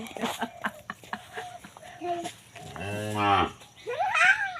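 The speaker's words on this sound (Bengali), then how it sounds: "গরু তো খাবার খায় দেখেছো বাবা কয়টা গরু হয়েছে" A village cow lets out one long, loud, deep moo near the middle while being walked on a rope. Scattered lighter sounds and voices in the background come before and after it.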